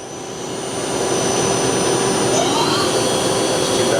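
A 2008 Doosan Puma 2000SY CNC lathe's main spindle, with an 8-inch chuck, spins at 1,000 RPM, giving a loud, steady mechanical whine that swells over the first second and then holds evenly with no talking.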